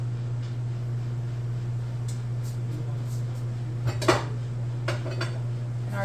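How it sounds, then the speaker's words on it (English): Metal lid of a pressure canner holding jars of black beans being twisted and lifted off, a few scraping clinks and a sharper metallic clunk over a steady low hum, close by. "I'm going to turn the lid"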